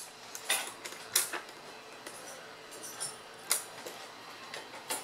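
Forks and spoons clink and tap as they are handled, a scattering of sharp, faint metallic clicks spaced irregularly, with no talking.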